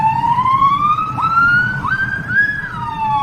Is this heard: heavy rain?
no